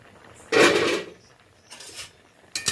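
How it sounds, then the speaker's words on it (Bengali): A metal lid comes off a cooking pot of boiled jackfruit seeds with a loud scraping clatter, followed by two fainter clinks and knocks a moment apart. "ঢাকনাটা খুলে নিলাম।"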